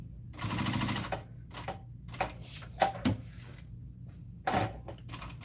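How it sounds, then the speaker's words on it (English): A sewing machine stitching a zipper onto a bag lining, running in short whirring bursts with brief pauses between them, close and fairly quiet. "now we're going to sew all the way around"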